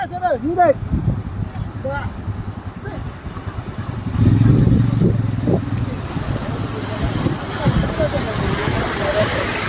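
Vehicles labor out of a rain-flooded field, engines revving and clattering close by with a louder surge midway, while people shout directions over the noise.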